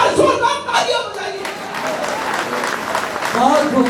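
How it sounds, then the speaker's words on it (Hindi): Enthusiastic applause from an audience at a Hindi poetry recital, a dense wash of clapping that swells and persists for several seconds, with a voice speaking over part of it. "इसके सम्मान में एक बार जोरदार तालियां बजाइए।"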